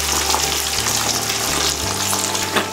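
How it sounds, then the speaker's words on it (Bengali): Lemons for a Bengali lemon chili pickle fry in about 500 grams of hot oil in a wok, giving a loud, dense, continuous sizzle with faint stirring and no talking. "লেবুগুলোকে সফট করার জন্যে আমি কিছুক্ষণ এটাকে তেলের মধ্যে ভাজবো"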